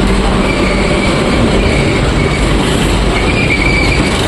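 A Puri to Howrah Vande Bharat express train stands at the station, giving a loud, steady rumble with a faint high wheel squeal running throughout.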